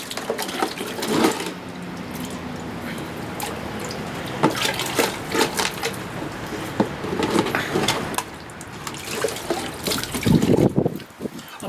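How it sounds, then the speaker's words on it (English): Muddy water sloshes and spills from a gold pan at a sluice full of black sand, a steady wet trickling and splashing with louder pours near the end. "I'm only spilling muddy water"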